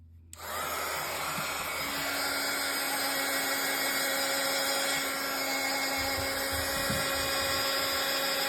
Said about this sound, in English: Now I'm going to turn up my Darice heat tool.